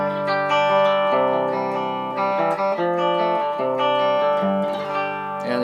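Electric guitar played through an amp set with almost no bass, a thin, trebly, effected tone with sustained chords and overlapping ringing notes, fairly loud and close, no talking.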